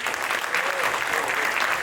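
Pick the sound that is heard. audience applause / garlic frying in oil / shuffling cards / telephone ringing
audience applause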